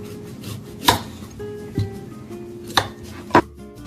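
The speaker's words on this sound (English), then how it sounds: "Next, peel taro and cut them in half." A knife chops through peeled taro on a cutting board, giving four sharp, separate thunks spread unevenly over a few seconds in a quiet kitchen.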